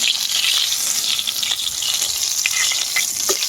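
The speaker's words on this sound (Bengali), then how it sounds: "মাছ কিন্তু 3টা ভাজা অলরেডি হয়ে গেছে, আরো 2টা দিয়ে দিচ্ছি" Koi fish, large ones, frying in oil in a pan in a home kitchen, a steady dense sizzle with sharper spitting pops throughout, close and fairly loud with no voices.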